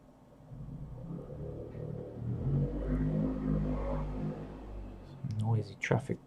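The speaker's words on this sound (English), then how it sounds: "Noisy traffic going around." Low, continuous rumble of road traffic with a vehicle engine swelling and revving nearby, and voices faintly mixed in.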